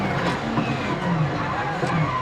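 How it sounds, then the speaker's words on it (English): A rally car engine in Assetto Corsa Rally held at a steady, rich revving drone, loud and close with slight rises in pitch, a brief burst of sound with no talk over it. "so nice, like so rich, the engine note, the different vehicle engines"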